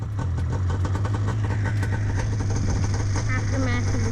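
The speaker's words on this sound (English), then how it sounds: "So I'm glad I kept the throttle on, and I'll continue to keep the throttle on whenever I'm going through that section of marsh." A snow machine engine running through marsh, a steady mid-pitched mechanical drone with a rapid chugging pulse throughout, close and continuous, with faint voice-like tones near the end.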